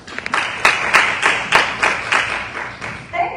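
Audience applause for a speaker, Miss Megan Wade, at an afternoon workshop: a steady run of loud, close hand claps with a pulsing rhythm, fading slightly at the end.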